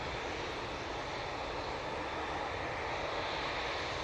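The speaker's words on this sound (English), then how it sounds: "It is the Helvetic E2 coming in from Zurich." Steady, broadband jet roar of a Helvetic Embraer E2 with Pratt & Whitney engines arriving at Manchester Airport from Zurich, a constant moderately distant rush that holds evenly throughout.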